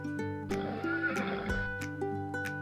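Horse on a farm giving a loud, close whinny with rising and falling pitch, with a few short hoof clops around it.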